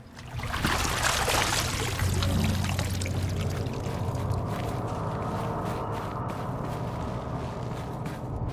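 Flowing, pouring water in the video game Horizon Zero Dawn, a steady loud rush that starts abruptly and continues throughout without speech.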